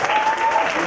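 Audience applause at a student voter registration campaign launch, called for a deputy dean about to give a vote of thanks; a short, steady burst of clapping fills the whole moment at close range.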